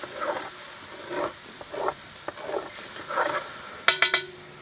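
Onions and bacon being added and fried in a Dutch oven on a Big Green Egg grill, giving a steady background sizzle with repeated scraping stirs and a quick burst of clinking metal near the end.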